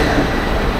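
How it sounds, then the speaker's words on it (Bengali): A passenger train pulls out of a station on the Kolkata to Guwahati run, its steady broadband rumble of wheels and cars filling the moment continuously and loudly with no voices. "ট্রেন ছাড়লো।"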